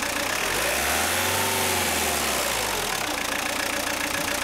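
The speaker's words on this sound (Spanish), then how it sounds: "Acelerar el motor. La lectura del multímetro debe aumentar mientras que la velocidad del motor aumenta." A car engine is running during a diagnostic test of its MAF airflow sensor. It is a close, steady mechanical hum with a low drone whose pitch dips and swells, clearly revving up from idle and heard alone without talk.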